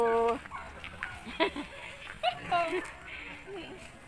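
Loud, harsh poultry calls come through in short bursts, a turkey gobbling and squawking nearby at a campsite, with people talking over it.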